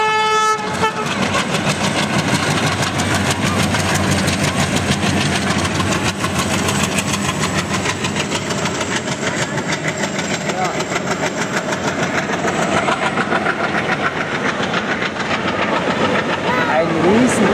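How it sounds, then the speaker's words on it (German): A container goods train in India rumbles steadily past at close range, loud and continuous with clattering wagons and engine drone, while someone talks over it at times. "Container-Zug."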